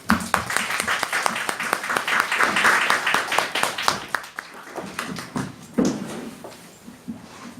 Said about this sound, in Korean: 대구에서 사는 평양시민 김연희 선생님을 여러분의 박수로 모시도록 하겠습니다